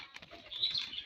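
A pigeon flaps its wings close by in a brief burst of soft, fluttering beats, with faint chirps around it.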